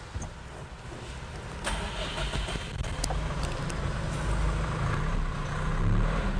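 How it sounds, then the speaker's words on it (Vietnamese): A JAC X150 1.49-tonne light truck's engine starts and settles into a steady idle rumble, close by and fairly loud, with low-frequency chugging building slightly toward the end and no talk. "đây là mình sẽ nổ máy thử ra."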